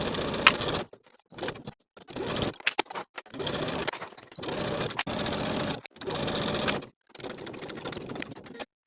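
A sewing machine stitching the facing of a lined coat runs in about seven bursts of even mechanical whirring, each a second or so long, separated by short pauses.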